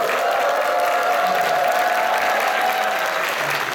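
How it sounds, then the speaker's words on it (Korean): A church congregation at a revival meeting claps and cheers loudly, with dense, continuous applause and a rising crowd roar filling the room for the whole stretch, no break. "나오실 때 크게 함성과 함께 우리 교회가 떠나갈 정도로 함성과 함께 크게 한번 박수하시겠습니다"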